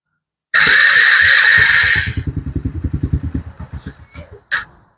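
A Yamaha TTR50 dirt bike engine is started: a loud starter whir for about two seconds, then rapid chugging firing pulses that slow and fade out, ending with a single clack.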